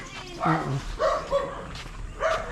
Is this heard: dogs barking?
yes